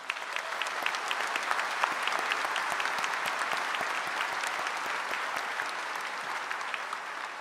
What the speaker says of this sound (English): Please join me in recognizing these students by giving them a round of applause.